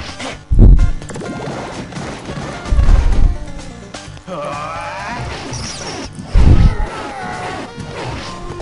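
Gunshots ring out in a shooting video game, three heavy booming bursts spaced a few seconds apart, with clattering game sounds between them and no talk over them.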